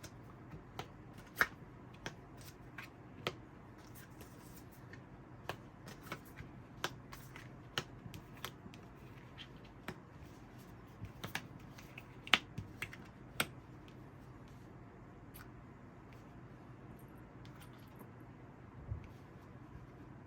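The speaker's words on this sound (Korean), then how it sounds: "그럼 바로 카드 뽑아볼게요." Tarot cards are shuffled and drawn in a quiet room, giving faint, sparse crisp snaps and flicks scattered irregularly over a soft background hum.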